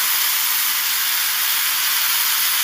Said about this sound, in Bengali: কড়াইশুটির পেস্টটা দিয়ে দিলাম